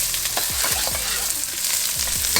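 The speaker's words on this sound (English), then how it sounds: "We got onions going in some peanut oil." Onions fry in peanut oil over real high heat for a bok choy stir fry, a loud steady sizzle with soft stirring scrapes and clicks of a utensil against the pan, close up.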